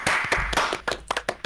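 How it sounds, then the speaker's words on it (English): Hands clap in an uneven series of sharp, fairly close claps spread across about a second and a half, with no voices over them. "I'm clapping"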